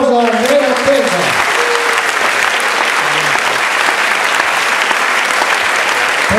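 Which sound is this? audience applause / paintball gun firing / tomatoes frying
audience applause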